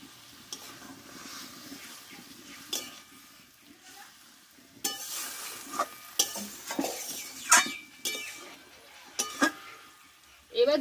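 Eggplant and fried fish sizzle in a pan as a utensil stirs them, with soft frying hiss under intermittent scraping clatters that grow louder toward the end, and a cough or brief voice sound in places.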